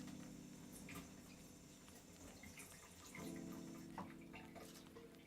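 Tap water runs steadily into a kitchen sink while mushrooms are rinsed, a soft continuous splashing with small clatters and drips, close and fairly quiet.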